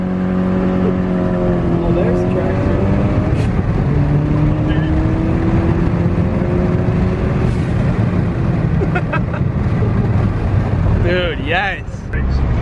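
A Ford Focus ST accelerates hard through the gears, heard from inside the car. The engine's loud, steady drone climbs in pitch, drops briefly at each shift, then climbs again, with road and wind rumble underneath throughout.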